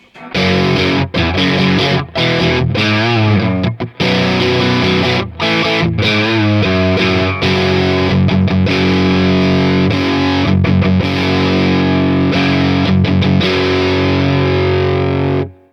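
A PRS CE24 SE sandblasted electric guitar played through its coil-split bridge pickup with a distorted, effects-laden tone, loud sustained chords with brief gaps between phrases and no talking.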